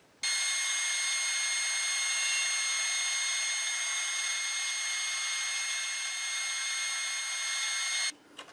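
A power tool whirs at a constant steady pitch for about eight seconds, starting and stopping abruptly, close and fairly loud with no talk, as scrap wood is fixed to a slicing-jig fence.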